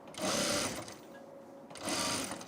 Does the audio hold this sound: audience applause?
no